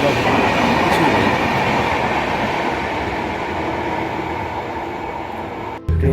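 Steady rumbling roar of a moving train heard from inside a passenger compartment on a North Bengal journey, continuous and loud with a faint rhythmic clatter, ending in a brief dip near the end.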